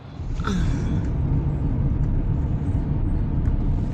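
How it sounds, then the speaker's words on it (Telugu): Road traffic on a busy street, a loud continuous rumble of passing vehicles with a rising engine whine near the start, steady and close throughout. "ఈరోజు వీలైతే వీడియో చూడండి ఎంత ట్రాఫిక్ ఉంటుందో అంత ట్రాఫిక్"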